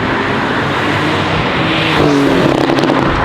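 A 2018 Porsche 911 Carrera GTS engine accelerates, heard close from inside. A steady drone swells after two seconds into a rising rev.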